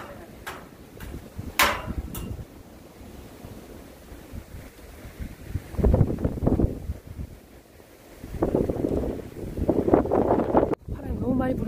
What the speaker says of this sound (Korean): 바람 너무 많이 불어.